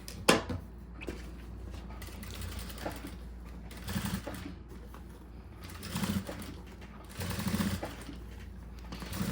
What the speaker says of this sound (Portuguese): essa costura é para fora, porque ela vai apenas fazer o acabamento aqui do viés